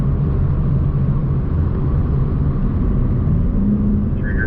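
A BMW road car on a race track brakes hard, a loud, steady engine and tyre rumble from inside the cabin with a faint rising squeal at the end, no talking over it.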